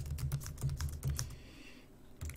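Java code is typed on a computer keyboard in quick, close clicking bursts, with a brief pause before a final few keystrokes, and no voices.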